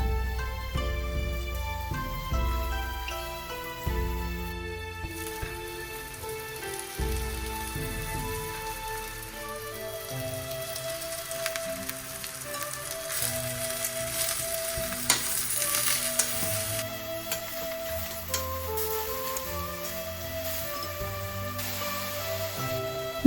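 Mushrooms and zucchini sauté in a hot pan, giving a steady sizzle under loud background music with melody and bass.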